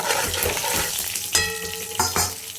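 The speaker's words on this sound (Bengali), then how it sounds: "এবার আমি ফোড়ন দিয়ে দিলাম, জিরে ফোড়ন আর তেজপাতা।" Cumin seeds and a bay leaf hit hot oil in a pan where fish has just been fried, a loud close crackling sizzle with sharp spits and stirring scrapes bursting up twice.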